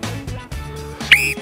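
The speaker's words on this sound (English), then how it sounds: "Listen for that whistle." A single short, sharp sports whistle blast sounds near and loud for a split second to start a children's Auskick football race at home, following quieter talk.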